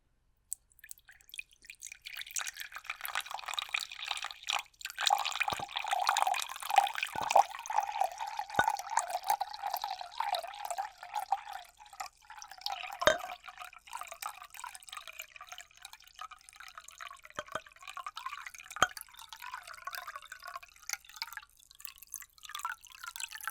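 Water pours steadily into a container with a soft, trickling splash, its tone shifting as it fills, punctuated by a few faint clinks.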